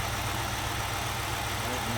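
A 2006 BMW X5 4.4i V8 engine idles steadily, a loud, even low hum with a faint pulsing rhythm and no voices.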